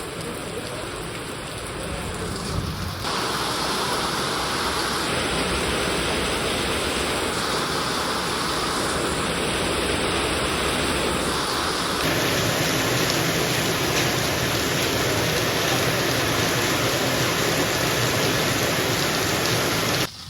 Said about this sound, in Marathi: आता पाऊस परत चालू झालेला आहे, बघू शकता खूप पाऊस पडायला